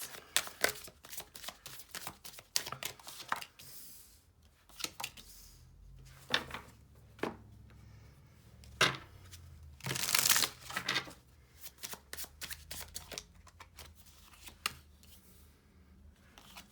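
A deck of pick-a-card reading cards riffled and shuffled close up, with repeated bursts of crisp flapping and ruffling, one louder stronger riffle in the middle, and quieter handling between.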